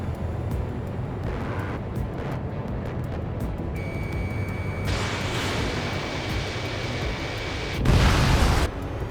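A radar vehicle is destroyed in the combat flight game Ace Combat 7, heard as a steady rumbling roar that swells into a louder, broadband blast near the end.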